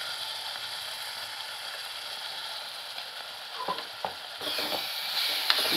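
Spice masala with red chilli powder fries in oil for a mutton kofta korma, a steady close sizzle that swells near the end as a spoon scrapes and clicks against the pan.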